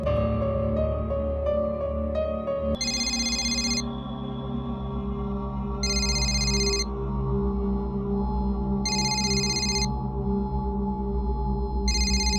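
A telephone ring tone repeats in regular bursts, roughly every three seconds, over a steady humming background with no voices.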